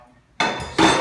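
A crowbar is struck with a hammer to drive it into a window frame during a window replacement: two loud, bright metallic impacts with ringing sustain, the second following about 0.4 s after the first.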